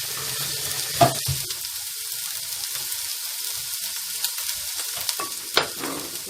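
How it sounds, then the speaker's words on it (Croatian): Chopped onion and garlic frying in a pan for cauliflower soup, a steady close sizzle with occasional clicks and scrapes of stirring, no voices. "Jedno i drugo, znači stavljamo da se prži i dok se to prži"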